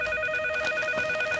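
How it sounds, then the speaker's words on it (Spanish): A telephone ringing in a home scene of a Spanish-language telenovela, a steady electronic ringing tone held throughout the short stretch, clear and fairly loud, with no talking. "esa muchacha no oye el teléfono"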